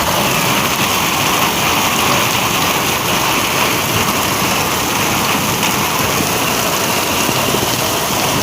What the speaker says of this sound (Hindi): यहाँ पे और बारिश भी काफ़ी शदीद है यहाँ पे।